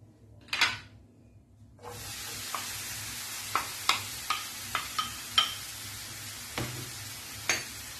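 Onion hits hot olive oil in a pan and settles into a steady, close sizzle for a savoury vegetable filling, with a few sharp utensil clinks and taps scattered over the frying.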